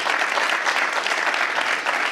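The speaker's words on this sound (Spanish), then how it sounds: "Le vamos a brindar un fuerte aplauso a Miguel Acevedo" Audience applause for Miguel Acevedo at an industrial fair, loud and close, a thick continuous burst of many hands clapping at steady strength with no talking.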